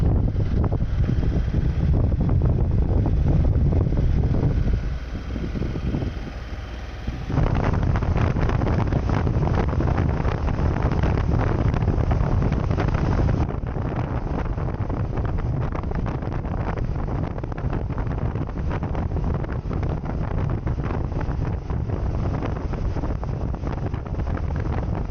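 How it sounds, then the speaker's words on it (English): Strong wind buffets the microphone on an open road near Alamogordo, New Mexico, a continuous loud roar with gusty rumbling that shifts in intensity, and no one speaks over it. "It's been brutally windy out here."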